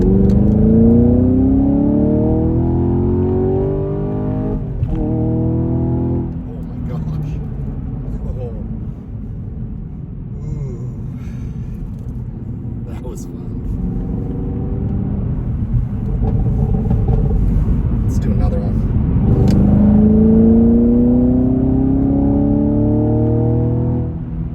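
Chevy Camaro accelerating at full throttle through the gears, a loud engine roar climbing in pitch, dropping at each shift and climbing again, heard from inside the car.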